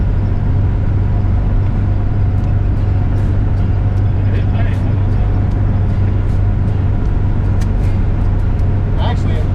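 An old RV cruises down a highway at about 55 mph, its engine and road rumble a loud, constant low drone with wind noise on top, while people talk over it.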